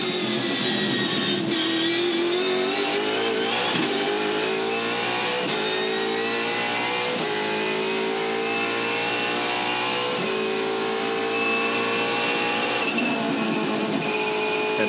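A V8 Supercar screams at high revs, recorded onboard with Marcus Ambrose during the 2015 Adelaide 500 race, loud and continuous, rising and dipping through gear changes and corners.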